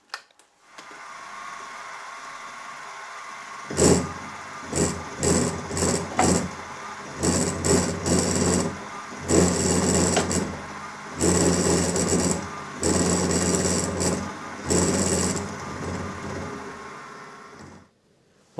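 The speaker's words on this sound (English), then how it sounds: "now I'm just going to plunge cut round this inside radius" A milling machine with a straight cutter plunge cuts around an inside radius on the front frame of a Farm Boy hit and miss engine model, giving repeated loud cutting bursts with short pauses between them over a steady machine hum.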